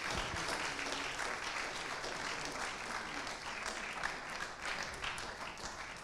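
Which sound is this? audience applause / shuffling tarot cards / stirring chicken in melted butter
audience applause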